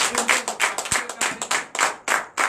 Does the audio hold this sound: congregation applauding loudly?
yes